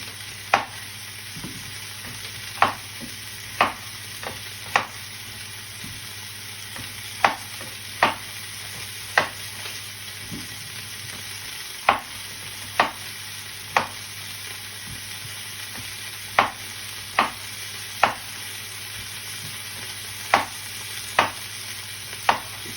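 Beef browning in a pan for a casserole, a steady sizzle under a constant background hum, broken by sharp, regularly spaced clicks or taps roughly every second, close and clear, with no talking.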